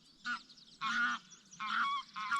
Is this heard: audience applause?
no